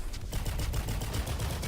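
Turrets in a video game fire continuously, a dense stream of rapid repeated shots like machine-gun fire, loud and close, with no talking over them.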